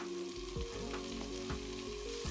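Thyme sizzling in melted butter in a pan, a soft, steady frying hiss with faint low hum underneath, close and unbroken by speech.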